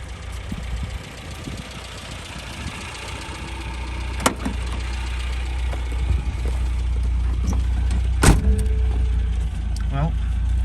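A parked car, poorly maintained for three years, runs at a steady idle while its cooling system is checked, a low continuous engine rumble close by with a few sharp knocks and clicks; people talk over it.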